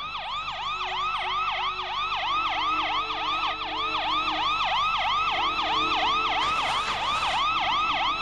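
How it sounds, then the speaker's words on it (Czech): Wailing emergency siren rising and falling in steady repeated sweeps, loud and close, continuing throughout with a low engine-like hum underneath; an animated children's cartoon scene. "ozvala se siréna"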